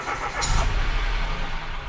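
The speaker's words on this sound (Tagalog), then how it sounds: "So nag-start ako ng kotse" A car engine cranks and catches, then settles into a steady low rumble. It is close and fairly loud, and no one speaks.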